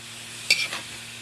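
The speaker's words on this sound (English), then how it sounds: "Lalagay na po natin ang magic aswete. Mix po natin siya." Annatto and bouillon cubes stirred in a cooking pan, a single short scrape of a utensil over a soft background sizzle, close and brief.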